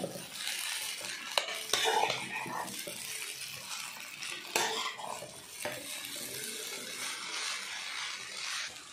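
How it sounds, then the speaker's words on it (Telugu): Cooled egg noodles are tossed and mixed in a pan with soft scraping and clinking of a utensil against metal under a faint sizzle. The sound is quiet and close, with a low voice faintly in the background. "నూడిల్స్ అన్నీ కలుపుకుందాము"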